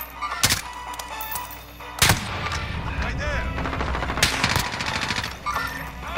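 Heavy machine gun fire in the Modern Slug video game: loud, dense bursts of rapid gunshots with booming impacts, continuing with little pause across the stretch.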